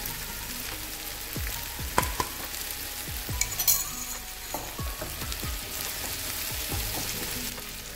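Crushed coriander and fennel seeds tipped into hot oil in a frying pan, a constant crackling sizzle with spoon taps and scrapes scattered through, close and moderately loud, no talk.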